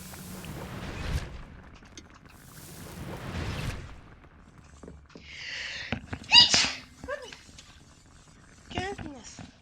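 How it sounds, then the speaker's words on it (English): A person sneezes inside the video game Hogwarts Legacy, short bursts of breathy noise standing out amid game music, effects and a talking voice. "I sneezed."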